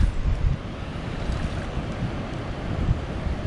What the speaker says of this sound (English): Now the water's coming in.